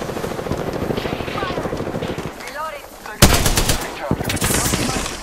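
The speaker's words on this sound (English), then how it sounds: "Taking fire." Gunfire in the video game Apex Legends: rapid, loud automatic bursts up close, a brief pause, then a sharp blast and more firing with clattering effects, and a voice is briefly heard over the action.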